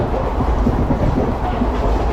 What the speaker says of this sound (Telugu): నర్సాపురం నుండి బెంగళూరు వెళ్ళే ట్రైన్ ఫ్రెండ్స్ ఇది